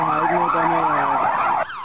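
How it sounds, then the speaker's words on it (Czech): Emergency sirens wail through Copenhagen streets during riots, a loud nearby up-and-down tone sweeping several times before cutting off sharply. "Dánskou metropolí zní ohlušující řev sirén."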